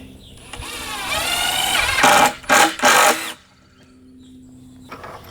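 Power driver running 2-inch screws into a wooden cubby shelf: a whirring motor rising in pitch, then three short loud bursts as screws seat, followed by quiet room noise and a faint click.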